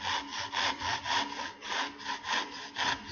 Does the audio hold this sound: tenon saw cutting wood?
yes